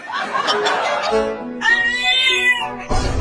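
A small kitten gives a drawn-out, wavering meow in the middle, loud and close, with other brief sounds before it and a short burst at the end.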